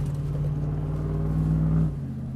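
A Dodge Ram truck rumbles along on a dirt surface, a steady low engine drone with road noise that swells briefly before easing off.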